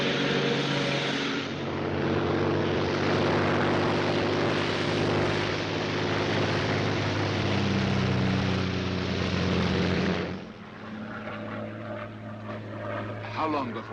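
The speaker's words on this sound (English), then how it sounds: "This very moment, a Royal Air Force plane is waiting for us at a secret landing place." A Royal Air Force propeller plane drones steadily and loudly for about ten seconds, a thick continuous engine roar with people talking beneath it, before it drops to a quieter hum in a 1942 film scene.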